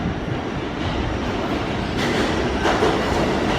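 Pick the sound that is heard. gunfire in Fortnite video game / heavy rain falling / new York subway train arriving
new York subway train arriving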